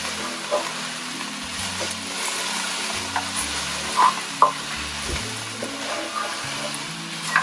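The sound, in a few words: onions being stirred and fried in a pan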